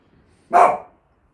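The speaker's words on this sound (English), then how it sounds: "sorry about the dog" A single dog bark sounds during an online exam revision livestream: one loud, close, half-second burst against near silence.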